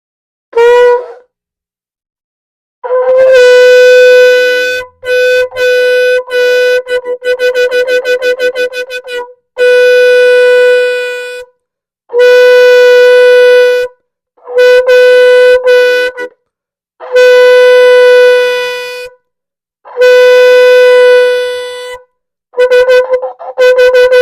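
Shofar sounded for the month of Elul, a series of loud, sustained horn blasts with bright brassy overtones, broken into repeated long notes and quick staccato bursts with short silent gaps, played alone.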